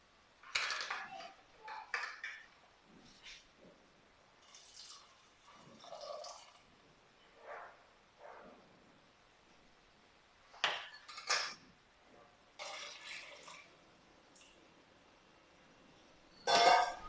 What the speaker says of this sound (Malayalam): ഞാൻ മിക്സിയുടെ ജാറും കൂടി കഴുകിയിട്ട് ആ വെള്ളം കൂടി ഒഴിക്കണം കേട്ടോ.